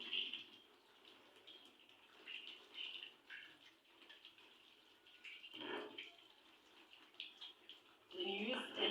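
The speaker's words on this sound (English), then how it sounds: "I'm now rinsing with water." Running tap water rinses soap-lathered hands, a soft, continuous splashing in a quiet room that swells and fades as the hands move, growing louder near the end.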